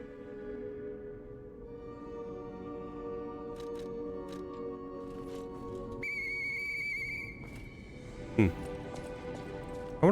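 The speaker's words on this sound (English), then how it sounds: "I wonder if that whistle has any other use." A whistle in the video game Lies of P gives sustained tonal notes over a soft game background, with a bright higher pitch partway through and brief sharp sounds near the end.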